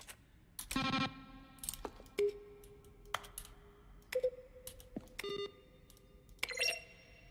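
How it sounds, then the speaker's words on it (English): A series of button-press sounds from the video game The Stanley Parable, mixing keyboard strokes with synthesized tones: sharp clicks each followed by short sustained electronic beeps of varying pitch, spaced irregularly and heard alone. "A selection of the sounds used throughout the game when the buttons are pressed."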